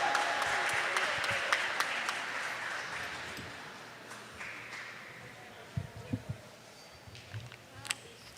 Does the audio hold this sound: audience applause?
yes